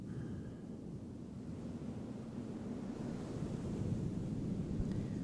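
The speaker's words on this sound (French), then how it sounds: "Donc ça c'était les vagues." Ocean waves captured on Tascam recorders, a continuous low rushing wash of surf with wind rumble on the microphone, steady and fairly close, building slightly toward the end with no voices.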